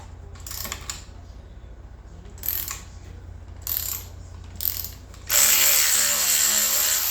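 Ratchet wrench tightening Loctited handlebar riser bolts on a motorcycle with a Moto Iron springer front end, a few short bursts of clicking followed by a louder, sustained ratcheting run close by.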